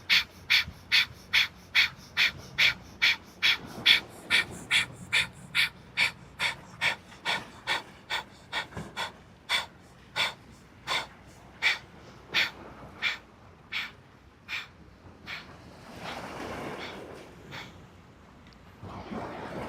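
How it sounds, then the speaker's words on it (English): Breath of fire, a rapid yoga breathing through the nose on a beach, sounds as sharp, evenly spaced exhales, fast at first, then slowing and spreading out, close and clear with faint surf behind. "doing that breath of fire"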